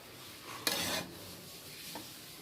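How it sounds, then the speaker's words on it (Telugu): A spoon scrapes and stirs tempering through rice in a pan, one brief scraping rub followed by a faint clink, quiet and close, with no voices. "ఇలా పోపంతా కలిపి పెట్టుకోవాలి."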